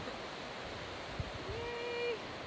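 Goose Creek Falls in a snowy landscape gives a steady broadband rush of falling water, heard from a distance, with a brief tone rising over it near the end.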